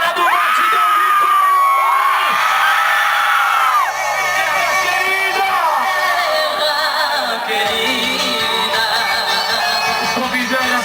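A rodeo crowd shouts, whoops and cheers loudly and continuously in a big open arena, with screams and yells rising and falling over a steady roar.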